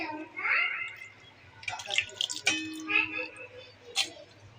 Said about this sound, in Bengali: এভাবে করে মাছটি ধুয়ে নিতে হবে